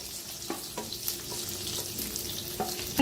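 Small green chillies frying in a pan, a close constant sizzle with several sharp stirring clicks and scrapes at irregular intervals.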